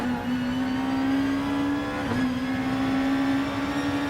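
A Nissan GT-R race car engine in Gran Turismo, the Motul Autech car at the Nürburgring GP, holds a steady, loud droning tone with a small dip in pitch partway through as the throttle briefly lifts.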